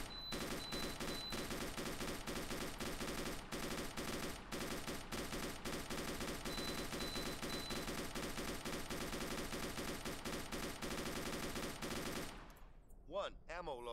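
Sustained automatic gunfire in the military shooter ArmA: Armed Assault rattles in long, dense bursts for about twelve seconds, then cuts off abruptly into quieter ambience. Voices come through faintly beneath the shooting.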